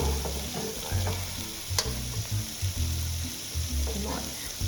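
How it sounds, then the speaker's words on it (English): An omelette fries in a wok, with a steady close sizzle and repeated scraping, knocking stir strokes as it is pushed around the pan. "Okay, so the omelette is cooking here."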